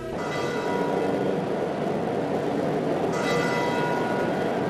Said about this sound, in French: Les sons de la cloche retentissent.